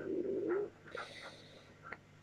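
A kitten's low, drawn-out meow is followed by a few soft, brief vocal chirps, faint and close in a quiet room.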